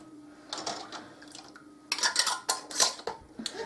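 A metal canning jar ring being screwed down finger tight onto a glass jar of raw-packed green beans and potatoes, giving a few close, short scraping clicks and clinks in quick bursts with no talking.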